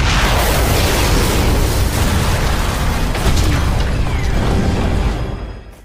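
A bomb blast in a police film scene tears through as a loud, sustained roaring rumble with dense debris clatter, holding steady for several seconds before fading out at the end.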